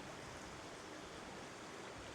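A river flows beside a campsite on the Cumbria Way with a faint, steady rushing hiss that stays even and unbroken, with no voices.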